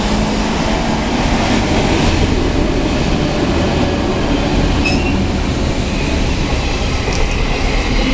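A 14 class diesel locomotive consist passes Point Clare, a loud, steady roar of engines and rolling wagons that fills the whole stretch, with faint wheel squeal and clatter near the end.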